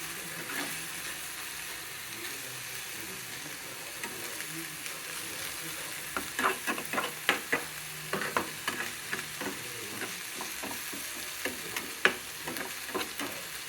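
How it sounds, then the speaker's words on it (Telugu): Egg cracked into a hot pan and frying, a steady soft sizzle that picks up a cluster of taps and scraping clicks partway through, close and fairly quiet, with no talk. "దీనిపైన గుడ్డు కొట్టి పోసుకున్నాం"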